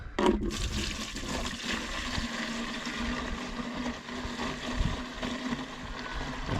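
Liquid herbicide pours into a sprayer can, a continuous loud gushing, sloshing rush of liquid with a brief knock at the start, heard alone without speech.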